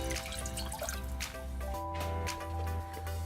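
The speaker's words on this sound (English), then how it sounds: "Pour about 2/3 of a cup water," Roughly two-thirds of a cup of water pours steadily into a cooking pot for a kolak with sweet potato tapioca balls, a continuous close trickle and splash under soft background music, with no talking.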